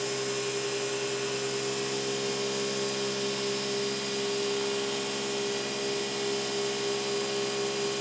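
Beast'O'Matic Mark III vacuum cleaner running with its power nozzle attached, a loud, steady whine and roar that holds unbroken and close for the whole stretch with no voices.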